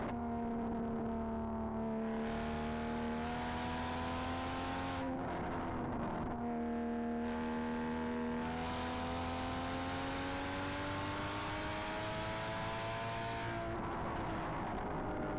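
A car engine held at full throttle on a wet road, a loud steady drone with a rising pitch that dips briefly around the gear changes, continuous and close for the whole stretch.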